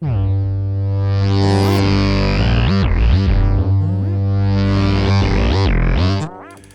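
A loud, sustained distorted tone from a guitar effect in Guitar Rig, its pitch sweeping up and down in unipolar modulated waves, continuous and close, before cutting off abruptly.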